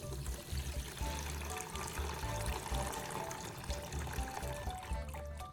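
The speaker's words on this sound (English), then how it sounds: "Once the Coca-Cola has had some time to work, I'm draining it completely from the battery." Dark brown Coca-Cola drains steadily out of a car battery, a continuous pouring, trickling liquid stream with a low gurgling undertone that runs unbroken from start to finish, close and fairly loud.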